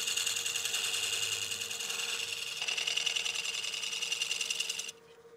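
A scraper cuts wood turning on a lathe held in a Longworth chuck, a steady loud buzzing rasp with a faint motor hum beneath, continuing evenly then cutting off near the end, leaving only low hum.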